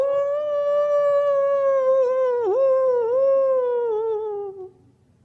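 A human voice imitates a dog's howl, one long sustained wavering tone that dips briefly midway, then slowly falls and fades away.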